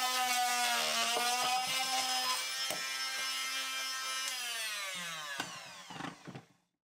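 An oscillating multi-tool cuts into workbench wood with a loud, steady buzzing whine that shifts slightly in pitch, then stops, followed by a few brief knocks and rattles.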